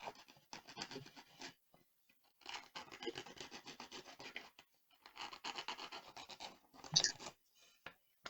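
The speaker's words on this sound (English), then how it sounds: "A little bit of off-camera scraping of the join." Scraping the join of a plastic model Samurai Castle kit piece, several bursts of close, rasping back-and-forth strokes separated by short pauses, ending with a couple of faint taps.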